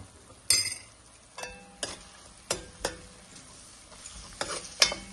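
Coriander, cumin and curry leaves frying in a pan, a soft steady sizzle broken by several sharp scrapes and clinks of a spoon stirring, close and fairly quiet, with no talking.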